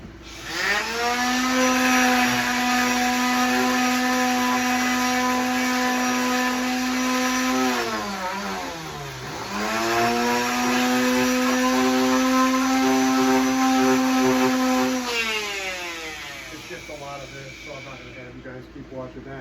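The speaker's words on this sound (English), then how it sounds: "Just going to take the palm sander, come down here with some 80 grit, and I'm going to sand them so they're all right on the money." A palm sander with 80 grit sandpaper works cedar tobacco pipe parts in a woodshed, giving a loud, steady buzzing motor whine whose pitch dips briefly midway as the load shifts, then runs on and fades near the end.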